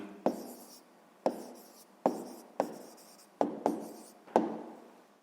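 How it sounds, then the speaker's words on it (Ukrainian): A pen writes an answer on paper in seven quiet, close scratching strokes. Each starts with a sharp tap and fades out, with short gaps between and near silence otherwise. "зараз записуємо тоді відповідь"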